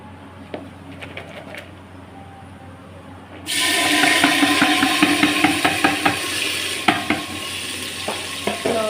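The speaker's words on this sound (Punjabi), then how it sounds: "ਪਿਆਜ਼ ਆਪਾਂ ਪਾਤੇ ਕੜਛੀ ਨਾਲ ਹਲਾਵਾਂਗੇ ਹੁਣ ਲਓ ਜੀ ਆਪਾਂ ਕੜਛੀ ਨਾਲ ਹਲਾਤਾ ਪਿਆਜ਼ਾਂ ਨੂੰ" Onions dropped into hot oil with cumin in a pan and stirred with a ladle, a sudden burst of loud sizzling after a quiet start, with rhythmic scraping clanks of the ladle over the steady hiss.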